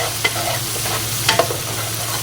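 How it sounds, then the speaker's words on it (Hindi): Onion sautéing in a pan with crushed garlic and ginger for chana pulao, a continuous close sizzle broken by a couple of sharp stirring clicks against the pot, no voices. "इसको तकरीबन हम 1 मिनट तक इसके साथ अच्छी तरह भून लेंगे।"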